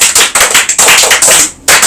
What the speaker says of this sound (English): Let's clap for our mummies.